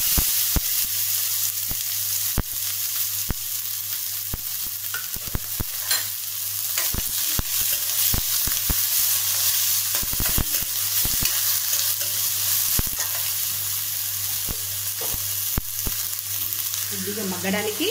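Chopped onions fry in a pan as the base for a chana masala curry, a steady broad sizzle running the whole time with sharp clicks of stirring scattered throughout, close and fairly loud.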